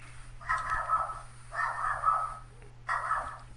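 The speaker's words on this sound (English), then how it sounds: "Oh, that's my dog barking." A chihuahua gives three drawn-out, high, whining barks or yelps in a row, moderately close, over a steady low hum.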